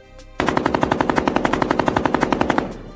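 Rapid automatic gunfire, a sustained burst of evenly spaced loud shots lasting over two seconds, close and harsh, then cutting off abruptly.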